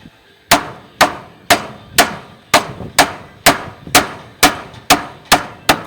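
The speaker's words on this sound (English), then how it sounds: "So I will have to do some maneuvering, some hammering to put in place." Steady hammer blows, about a dozen evenly spaced sharp knocks on board, loud and close with no talking.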